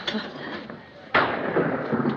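Thunder clap from lightning in a 1940s film scene: a sudden loud crack that breaks into a rolling rumble, following a quieter stretch of background noise.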